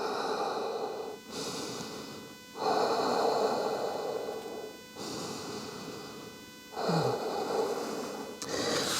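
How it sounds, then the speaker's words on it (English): Slow, deep yoga breaths, with long airy inhales and exhales alternating in a calm steady rhythm, close and clear against a quiet background hum. "Big deep breaths."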